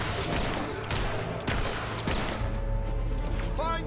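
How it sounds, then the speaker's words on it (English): Rebel rifle fire crackles in Fable III, with several sharp shots and a rattle of gunfire over a dense battle backdrop, moderately loud amid other mechanical noise. "Damned rebel is firing at us!"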